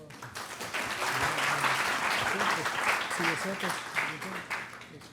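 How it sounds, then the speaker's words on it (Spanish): Audience applause at a scientific conference on sargassum in Quintana Roo, a broad wash of clapping filling the room while a voice speaks over it. "Un aplauso, por favor."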